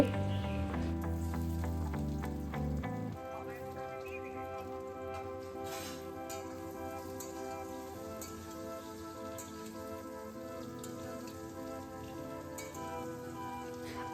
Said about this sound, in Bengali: এখানে কয়েকটা ফ্রেঞ্চ ফ্রাইজ ভেজে নেব